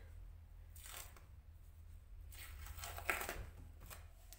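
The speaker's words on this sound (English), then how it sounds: "So I'm gonna peel these off and I'll show you how they're looking." Detox foot patches being peeled off the feet, giving a few soft close ripping and crinkling bursts separated by quiet pauses, with no talking.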